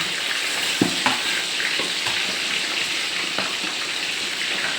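Tilapia fish frying in hot oil, a continuous bright bubbling sizzle with a few soft knocks from a turner, close and steady, no voices.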